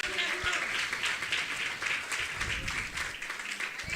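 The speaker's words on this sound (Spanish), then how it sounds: "Le damos palmas de alabanza a nuestro Dios" A church congregation claps in praise during a service, a broad, sustained wash of many hands at a lively level, with a voice speaking over the clapping.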